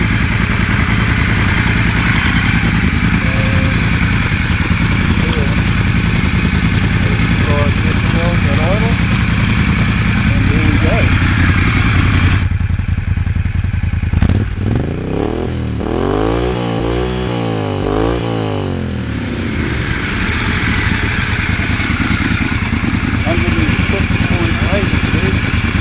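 A 1986 BMW motorcycle fitted with aftermarket exhaust pipes idles loudly and steadily close by, its low rumble broken midway by a short shift in tone before settling back to a constant idle.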